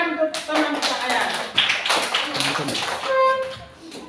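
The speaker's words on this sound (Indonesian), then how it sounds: "Tepuk tangan untuk teman kita Ayas" Classroom clapping for a student, a short burst of uneven hand claps from a group of students, heard close and mixed with overlapping voices.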